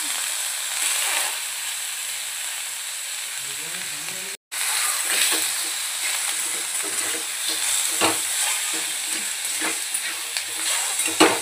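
Mutton sizzles and fries in a little oil in a kadai: a steady, close hiss with occasional crackles and stirring scrapes throughout, briefly cut to silence once.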